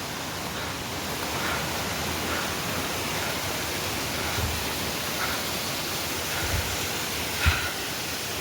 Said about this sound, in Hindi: सुंदर सा झरना बह रहा है